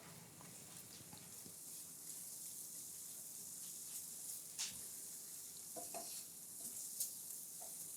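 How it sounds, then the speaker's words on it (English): Flour paste stirred and cooking in a pan for chicken à la king gives a soft steady sizzle, with faint scraping and clinking from the spoon, quiet and close with no talk. "Just stir this in. It's gonna kind of form a paste, and we wanna cook that raw flour taste out."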